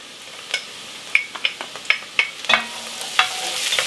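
Garlic being stirred into onions softening in oil: a steady low sizzle with a series of sharp utensil scrapes and taps against the pan, close and fairly loud, no talking.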